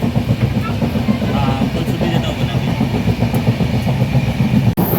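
Inside a moving Mumbai local train, a loud steady rumble of wheels and carriage noise fills the whole stretch, with voices murmuring underneath and one brief sharp clack near the end.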